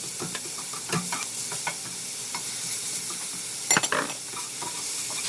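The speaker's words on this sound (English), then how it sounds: "we're going to take a yellow onion and we're going to dump it in there and sweat it out" A yellow onion sweating in a hot pan for a shepherd's pie, giving a continuous close sizzle with occasional spatula scrapes and a louder clatter of stirring near the end.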